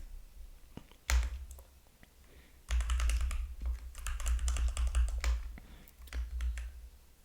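Quick burst of computer keyboard typing while entering the Neovim quit command, crisp clustered keystrokes with a few isolated clicks, then a longer run of rapid taps, close and clear with no voices.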